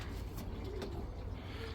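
Racing pigeons, including Black Widow birds, cooing inside a flying loft, soft low coos over a steady background hiss, fairly faint and close.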